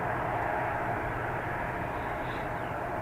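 Jet airliner taking off from runway 28 right at Dublin Airport, a steady broadband engine roar held at constant loudness throughout, heard from a distance with no talk over it.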